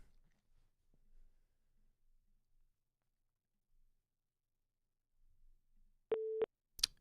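A telephone line busy signal sounds after phone lines are opened on a live call-in show: mostly near-silent hiss, then one short, loud steady tone followed by a brief clipped burst at the end.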